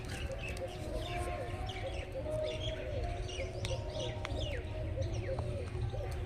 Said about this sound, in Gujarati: પક્ષીઓ મસ્ત કલબલ કલબલ કરે છે